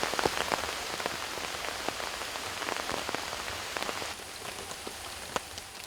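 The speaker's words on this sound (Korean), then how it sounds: "하늘이 심상치 않더니 산골집에 빗방울이 떨어진다." Rain comes down on a remote mountain house in the Taebaek mountains, a dense, even patter with scattered sharper drops close by, continuous throughout with no voices.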